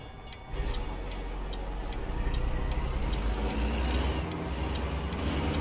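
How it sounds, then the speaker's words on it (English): A long train passing ahead of a truck in the American Truck Simulator video game: a steady rumble with regular clicks, like wheels on rail joints, running through the whole stretch without any talk. "There it is, train up ahead. Good sized train too."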